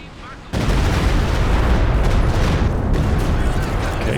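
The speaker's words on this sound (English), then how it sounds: "gets the mortar again" Battle noise in the WWII strategy game Company of Heroes 2, a sudden loud blast followed by a dense, sustained rumble of explosions and gunfire that holds steady to the end.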